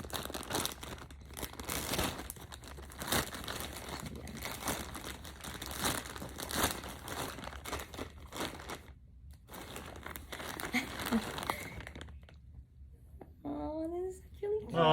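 Plastic packaging holding ordered pillows is torn open and crinkled in dense bursts of crackling and rustling, close and fairly loud, with a short pause before the rustling resumes and a brief voice near the end.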